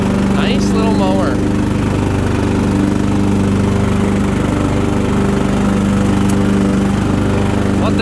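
A 13 hp Kohler Command engine on a Craftsman LT1000 riding lawn mower runs steadily up close, a smooth continuous drone throughout, with someone talking briefly over it near the start.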